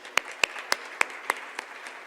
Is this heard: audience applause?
yes